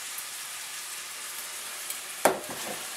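Sausage meat dusted with flour fries in a pan with a steady, close hiss and crackle, and a sharp spatter and scrape rise briefly near the end.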